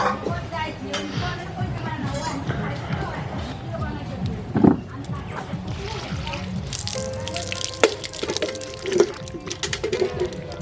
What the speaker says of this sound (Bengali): এবার আমি এগুলোকে ভালো করে কল থেকে ধুয়ে নেব।